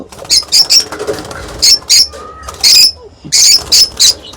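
Lovebirds at a breeding farm, giving loud, close, shrill chirping bursts that repeat in quick clusters, with brief gaps and a faint voice between calls.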